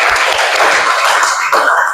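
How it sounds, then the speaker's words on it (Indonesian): A class of students claps hands together in a classroom, a dense, steady patter of applause filling the space for the full stretch, loud and without speech. "tepuk tangan."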